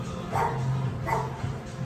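A dog gives two short, close bark-like yips in quick succession, with faint background noise and low hum between them.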